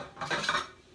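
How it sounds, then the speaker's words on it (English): Utensils scrape and clink against a dish while food is scooped into a container, a brief burst of close scraping with no talk. "we're literally gonna just scoop these"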